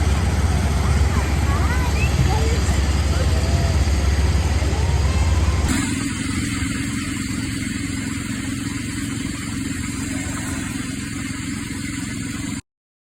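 A 1970 Sears 10XL garden tractor engine runs steadily nearby, a continuous mid-pitched drone with a change in tone partway through and people talking faintly in the background.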